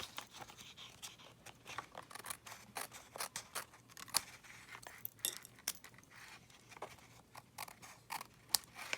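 Scissors trim strips of designer series paper with repeated crisp snips and slicing crunches in an irregular rhythm, close and fairly quiet, with no talking.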